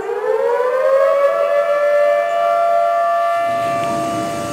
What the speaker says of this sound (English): Sirens warned people downstream